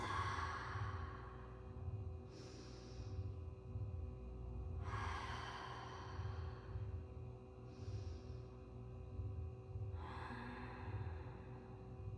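Slow, deep breaths during a yoga flow, three or so long audible exhales spaced a few seconds apart, soft and close over a low steady background hum with no talking.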